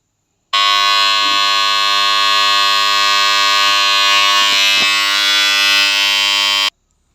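A 3-phase star delta submersible pump starter contactor buzzing loudly, a harsh continuous electrical hum that starts abruptly, holds steady for about six seconds, then cuts off.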